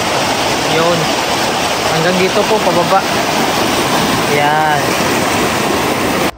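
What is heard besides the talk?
flowing river water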